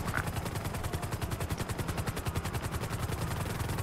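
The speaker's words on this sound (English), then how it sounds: "They're shooting at us, come on" Rapid automatic gunfire in Grand Theft Auto V, heard as dense, steady bursts of shots that repeat in a driving rhythm. It is loud and close throughout, with no voices over it.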